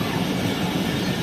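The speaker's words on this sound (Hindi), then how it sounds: "उस रूट पर चलने वाली ये वाहिद ट्रेन है, इकलौती ट्रेन है उस रूट की" A passenger train restored to service on its only route out of Karachi rolls along with a steady, loud, dense rumble of wheels and carriages, continuous and close throughout.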